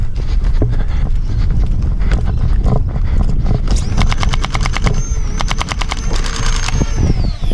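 A Nerf FDL-3 blaster fires full auto outdoors during a capture-the-flag game, a fast mechanical rattle of evenly spaced shots in several bursts over heavy wind noise on the microphone.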